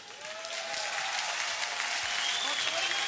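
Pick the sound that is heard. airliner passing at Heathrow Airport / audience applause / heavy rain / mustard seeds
audience applause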